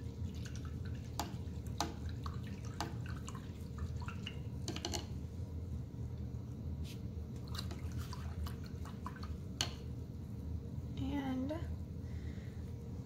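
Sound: paintbrush being rinsed in water

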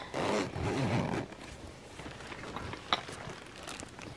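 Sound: zipper opening on craft case

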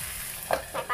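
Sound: radish and tengra fish curry sizzling in pan

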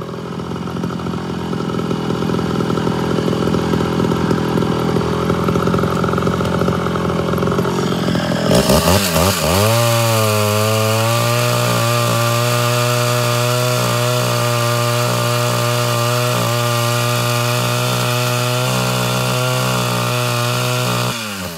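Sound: ported Homelite Super XL-Auto chainsaw cutting wood

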